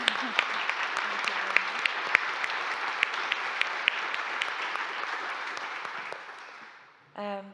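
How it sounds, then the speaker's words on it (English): Conference audience applauds a panel at the close of a session, a sustained even wash of clapping with a few close, crisp claps, fading out before a voice starts speaking. "I think we should give a big clap to our panel"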